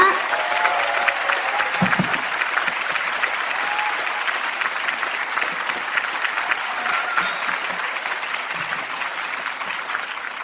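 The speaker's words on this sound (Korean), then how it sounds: "큰 박수로 맞이해 주시길 부탁드리겠습니다" A large lecture audience breaks into full, sustained applause to welcome a psychology professor, the dense clapping holding steady for about ten seconds before easing slightly.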